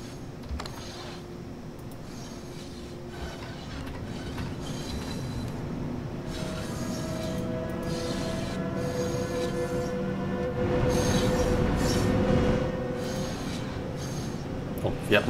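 A train in the Train Sim World 4 video game winding slowly over points on the Semmering line, giving a steady rolling rumble with drawn-out squealing wheel tones and mechanical clanks, and someone talking over parts of it.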